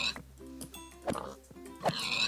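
Minecraft pigs oinking in short grunting bursts scattered through the moment, set against a game's ambient sounds, with no speech over them.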